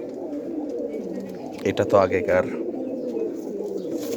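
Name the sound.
pigeons cooing while being handled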